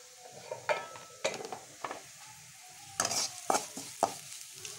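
Masala with dried chili and cabbage, the filling for momos, is stirred in a hot pan, giving soft sizzling under a handful of scraping strokes that come in short bursts.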